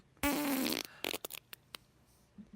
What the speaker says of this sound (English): It's called The Wettest of Farts.